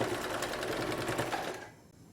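A sewing machine runs steadily for about a second and a half, stitching a straight seam 0.5 cm from the edge of fabric for a newborn's gown, close and continuous, then stops abruptly.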